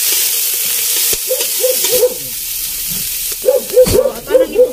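Garlic dropped into hot cooking oil sizzles in a pan, a hiss that flares up as it is added, while a dog barks repeatedly nearby over the frying.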